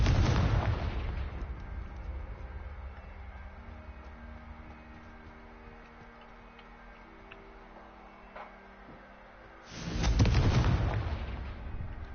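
Confringo blasting spell explosions in Hogwarts Legacy, a loud fiery burst at the start, a quieter stretch with faint ticking and tones, then a second powerful blast near the end.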